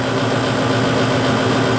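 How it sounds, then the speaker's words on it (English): A gas furnace's blower motor runs steadily just after starting up, giving a constant, even whooshing hum with a low motor drone underneath and no pauses. "Blower motor has just started,"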